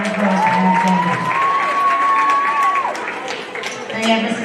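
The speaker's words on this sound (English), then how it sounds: "Let's give a round of applause for Alexander." Audience applause and cheering at an elementary school assembly, a steady crowd noise with a tone sliding across it and a voice speaking over the top.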